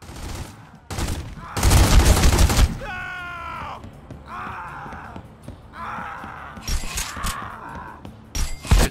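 Gunfire in The Godfather video game: a loud burst of rapid shots, then scattered single cracks between game effects and groans, with a voice speaking.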